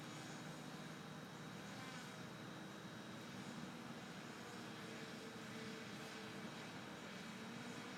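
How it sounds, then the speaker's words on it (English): A drone hovering over a house gives a faint, steady whirring hum with a thin high whine, distant and continuous against a quiet early-morning outdoor background. "This guy in his drone are hovering right over my house."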